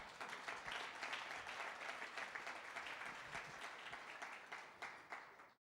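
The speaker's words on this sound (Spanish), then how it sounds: "denle un aplauso al Señor" A church congregation breaks into sustained applause, a thick, even roar of many hands clapping that holds for several seconds before fading out abruptly at the end.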